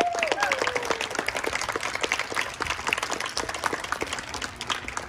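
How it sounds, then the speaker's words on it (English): Audience applause for young student string players at an outdoor school performance, a steady wash of many hands clapping throughout, with a brief tonal trace near the start. "Another round of applause for the string players."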